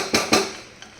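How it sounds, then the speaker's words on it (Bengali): A metal utensil knocks against a frying pan while food is mixed, two sharp clanks close together followed by a fainter tap, near and clear with no talk. "এবার এটাকে ভালো করে মিক্স করে নিচ্ছি"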